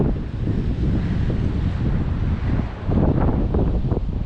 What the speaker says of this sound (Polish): Niesamowite są te fale.